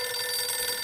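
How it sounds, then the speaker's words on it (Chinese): A black desk telephone rings with a bright, continuous electric bell tone, loud and steady throughout the brief moment with no voices. "正在此时，桌上的黑色电话响了。"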